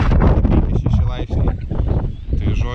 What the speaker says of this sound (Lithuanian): Žūklė labai nekomfortiška, tiesiai veidą vėjas, bangavimas toks nemažas